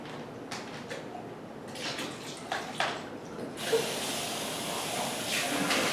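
Water poured out of a formula-mixing baby bottle, a hissing, splashing rush that swells and grows brighter toward the end, steady and close with no talking.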